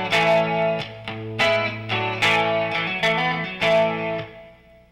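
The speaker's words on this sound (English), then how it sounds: "the middle position, that isolates the middle pickup" Electric guitar through its middle pickup alone, playing a short phrase of strummed chords and picked notes in a steady rhythm, ringing clearly and close with nothing else audible.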